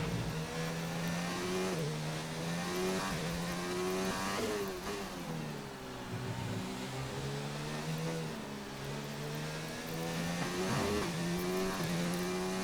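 Racing car engine in an F1 video game, a steady high-pitched whine with shifting pitch as it slows and enters the pit lane, loud and continuous with no voices.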